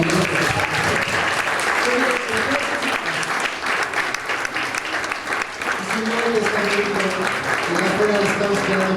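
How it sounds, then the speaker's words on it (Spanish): Sustained applause from a sizeable audience fills the whole stretch, with voices calling and chattering over the clapping. "Un aplauso para estos jóvenes"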